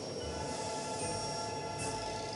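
A subway train pulls into Cheongnyangni station with a steady rumble and rolling rail noise, a brief squeal rising near the end, and no voices.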